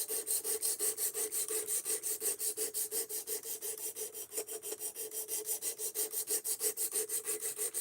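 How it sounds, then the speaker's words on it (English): A knife blade drawn repeatedly across a slow sharpener, giving a quick, even series of rasping scrapes in a steady rhythm, close and fairly quiet with no talk. "Like I love this sharpener, but man, it's slow."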